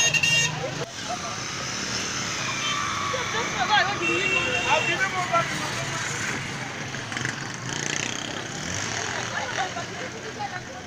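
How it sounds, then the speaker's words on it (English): An armored car rolls through a busy motor park in Kumbo, its engine rumbling amid the clamor of traffic, horns and a commotion of voices that continues throughout. "the passing of this armored vehicle"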